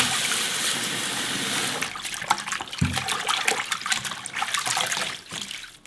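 Tap water running over fresh chives being washed for kimchi, a loud continuous splashing stream with handling and dripping sounds as the bunch is moved under it.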